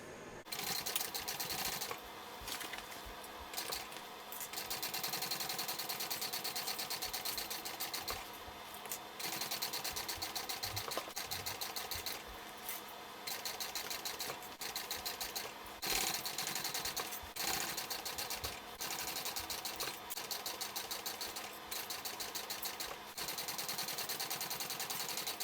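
A sewing machine stitches a bulky backpack seam in bursts, its rapid mechanical whirring and clatter starting and stopping with short pauses between runs, fairly close and without talk.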